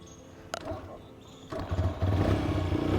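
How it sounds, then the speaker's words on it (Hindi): A TVS Raider motorcycle is kick-started: a sharp mechanical clack from the kick, then the engine catches and settles into a steady, close idle rumble. "ये लो भाई, स्टार्ट हो गई किक से।"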